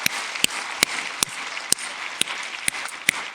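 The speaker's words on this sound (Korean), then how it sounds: "격려의 박수 한번 했으면 좋겠습니다." A church congregation applauds in encouragement, a soft, fairly distant patter of many hands clapping steadily, with a few sharper individual claps standing out.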